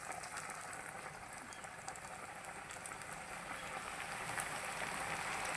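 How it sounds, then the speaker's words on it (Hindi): Chicken wings deep frying in hot oil over medium heat for KFC-style crispy wings, giving a steady, continuous crackling sizzle that holds throughout with no talking. "अब इसको हम फ्राई करेंगे मीडियम आंच पर आपने करना है।"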